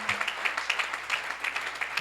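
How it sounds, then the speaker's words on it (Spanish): A church congregation claps steadily in a soft, rhythmic patter at a Sunday service, moderately distant, with no clear talk over it. "Vamos a dar un fuerte aplauso al Señor"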